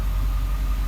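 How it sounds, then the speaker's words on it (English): A bus diesel engine sits at idle close by, a deep, low, steady rumble with no voices over it. "Sitting there at idle."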